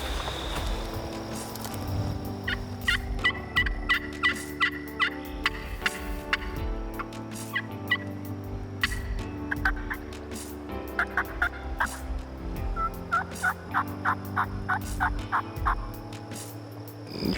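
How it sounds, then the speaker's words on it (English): Osceola wild turkeys gobble repeatedly in a South Florida hunting setting, a series of rattling calls at moderate distance over steady outdoor background noise, with no talk. "Think we're gonna hear one gobble?"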